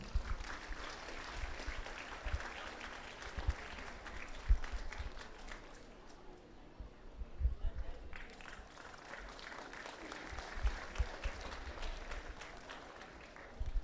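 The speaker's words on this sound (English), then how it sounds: "a round of applause, please." Audience applause at a Philippine Military Academy silent drill exhibition in Bago City, a broad steady wash of clapping that rises and dips over the whole stretch, moderately loud, with a few sharper claps standing out.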